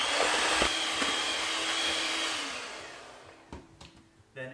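An electric hand mixer whirs steadily through cookie batter for black and white cookies with an egg just added, a loud continuous drone that fades after a few seconds, followed by a few light knocks.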